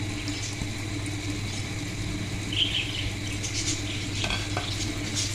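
Chopped onion frying and being stirred in a pan for chana, with a steady sizzle and occasional scraping stir sounds close by, no talking.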